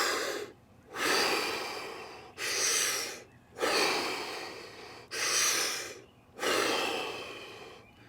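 Deep rhythmic breathing exercise: five long, loud, close breath cycles, each a strong rushing inhale or exhale followed by a brief pause, steady and evenly paced, with no talking.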